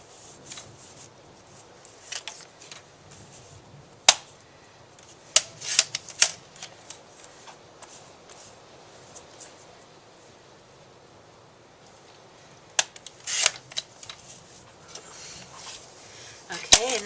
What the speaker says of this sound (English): Now we'll cut this out.